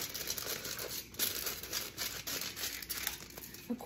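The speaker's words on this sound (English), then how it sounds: "take a piece of foil that's bigger than your pie, fold it in quarters" Aluminium foil folded and crinkled while shaping a pie shield, with close, continuous crackling and crumpling rustles.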